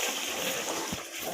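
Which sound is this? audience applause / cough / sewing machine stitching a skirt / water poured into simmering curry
water poured into simmering curry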